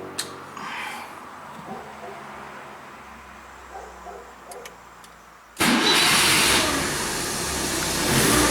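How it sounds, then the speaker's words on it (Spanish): A Fiat 147's engine is cranked and starts up after a stretch of quiet cabin background, then keeps running loud and close in a steady roar. "vamos a darle arranque a ver cómo se ve el tacómetro y todo eso"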